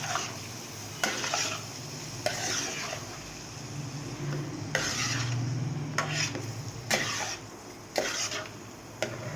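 Spices with kasuri methi frying in a kadai for kaleji masala, with a constant sizzle broken by sharp scraping stirs and spoon clacks against the metal at irregular intervals, close and moderately loud.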